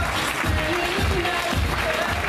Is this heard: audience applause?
yes